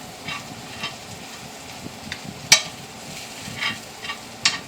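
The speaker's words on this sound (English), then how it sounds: "you are on the end of the hamburger meat getting brown" Hamburger meat browns in a greasy pan with a soft, steady sizzle, broken by a few sharp clicks and scrapes of a utensil stirring it.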